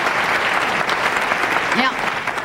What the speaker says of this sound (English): Applaud real big.